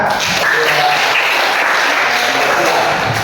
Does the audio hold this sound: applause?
yes